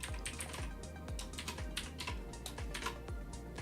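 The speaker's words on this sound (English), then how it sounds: "gotta type stuff correctly" Rapid keystrokes on a computer keyboard, a steady stream of close clicks at a quiet level over a low background hum, with no voice.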